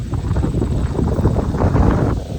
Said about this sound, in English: wind feels so good